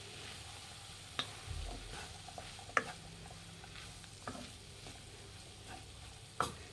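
Wedding-style cabbage and Kabuli chana palya is stirred in a pan with scattered scraping clicks of the spoon over a faint, steady sizzle, quiet and close.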